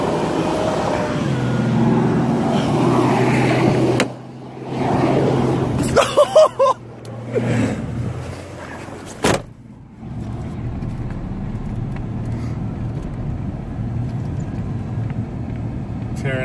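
A car drifts on snow, its engine rumbling and revving through wide slides with sudden surges and cutoffs, heard from inside the cabin while people talk and exclaim over it.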